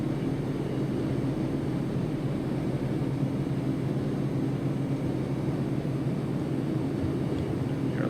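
Pilatus PC-6 Turbo Porter turboprop engine in X-Plane 11 simulation, a steady, loud low droning hum with constant tone as power is increased, no voices.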